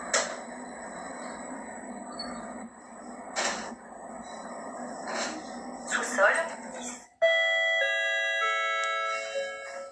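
A public elevator in Monaco sounds its alarm chime with a synthesized voice, a sustained tonal ringing that follows a stretch of speech and elevator noise.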